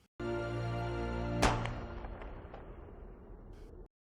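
A single sharp gunshot cuts through a loud, steady droning background in a film scene, followed by a fading rumble and a faint later thud.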